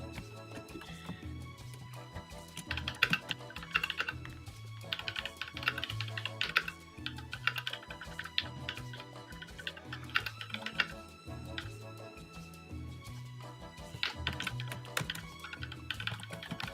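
Steady computer-keyboard typing runs throughout as dense, irregular clicks and key taps, close and fairly quiet, over a low hum of background sound.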